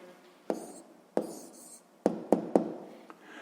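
Pen or pencil tapping and scratching on paper while a math answer is written down, a handful of close, sharp strokes spaced irregularly with short scribbles between, no talking.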